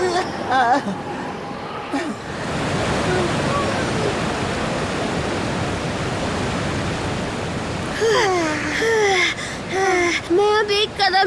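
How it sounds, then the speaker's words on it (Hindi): A cartoon waterfall roars as a steady broadband rush through the middle of the scene, with excited voices talking and shouting over it at the start and again near the end. "ये झरना बहुत ही सुंदर है।"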